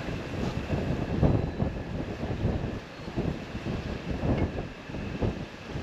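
Strong wind buffeting the microphone in a steady low roar, gusting louder and softer throughout with no voices.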